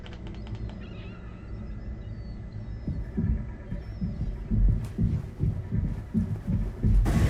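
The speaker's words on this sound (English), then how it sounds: "The fan makes that loud of a noise?" A loud fan in the horror game Mouthwashing produces a heavy, throbbing low rumble that steadily builds and pulses unevenly throughout, with no voices over it.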